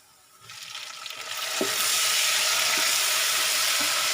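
Tomatoes dropped into browned onions in a hot pan for paya chana, the sizzle swelling sharply after a quieter start into a loud, steady hiss with faint stirring knocks, heard up close and without voices.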